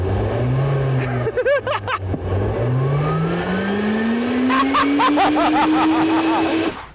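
A loud electric whine sweeps upward in pitch as the fan of a McMurtry track car revs hard via the throttle pedal while stationary, with brief clicks and a rising whir that holds near the end.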